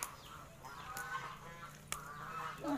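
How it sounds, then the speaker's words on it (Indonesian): A startled goose gives a string of nasal honks at close range, mixed with faint outdoor rustling and a couple of sharp clicks. "Angsa takut"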